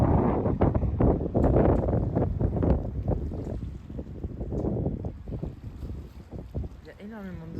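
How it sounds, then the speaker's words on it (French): Strong gusty wind buffets the microphone in heavy, uneven blasts, rumbling loudly before easing slightly, with a brief voice at the end. "il y a le vent qui siffle comme jamais"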